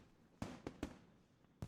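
Fireworks in the Katawa Shoujo video game burst in a few sharp, booming pops with short decaying tails, spaced unevenly over a quiet background.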